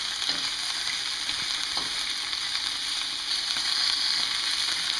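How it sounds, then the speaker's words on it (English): Veal sears in a hot pan with a constant bright sizzle and crackle, a few soft utensil touches and shifts breaking through the steady frying hiss. "let them sear up a little bit, let them brown up"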